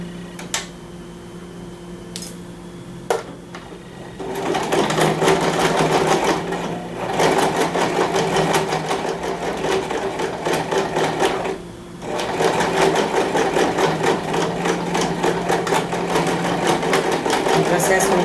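A sewing machine stitches a toiletry bag in a fast, buzzing mechanical whir, starting with short bursts, then running in long continuous stretches with a brief pause midway, close and clear.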